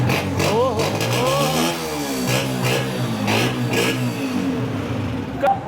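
A 2024 Honda 125 motorcycle engine runs and revs close by, its steady mid-pitched drone rising and falling, with people talking over it throughout.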